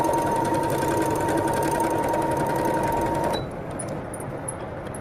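A Brother FS101 sewing machine stitches fabric with a close, steady, rapid whirring hum for about three seconds, then the motor stops and only faint clicks and room noise remain.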